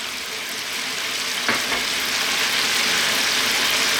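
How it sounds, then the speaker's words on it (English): Carrots and onion sizzle in a pan of lamb stew with chickpeas, a steady broadband frying hiss that swells slightly after a brief sharp clatter near the middle, continuous and close with no talk. "So let's now drop in onion. And I'm now going to add my carrots"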